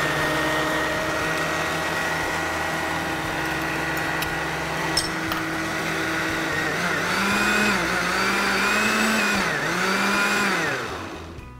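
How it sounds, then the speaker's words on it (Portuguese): An Electrolux blender whirs loudly as it beats eggs and corn oil, a steady motor drone that dips and rises in pitch several times near the end as the mixture churns, with no talking. "meu liquidificador aqui da Electrolux"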